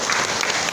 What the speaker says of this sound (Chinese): 来，我掌声鼓励一下。